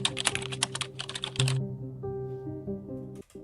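Rapid computer keyboard typing, dense clattering keystrokes for about a second and a half, then fading out beneath a steady musical tone and background hum.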